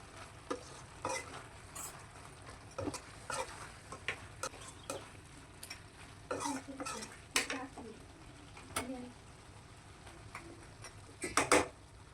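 Mutton sukka being stirred with spice powder in a pan, with scattered scraping and clinking strokes from a spoon against the pan over a faint background sizzle, close and irregular.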